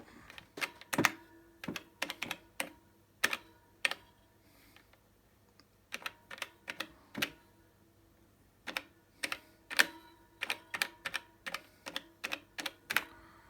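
Sharp, uneven button clicks on an Elektron Digitakt drum machine whose sticky rubber-coated keys have been repaired, pressed near and alone in quick bursts separated by brief pauses.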